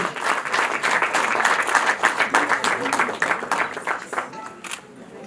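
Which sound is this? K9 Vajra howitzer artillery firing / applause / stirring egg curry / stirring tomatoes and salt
applause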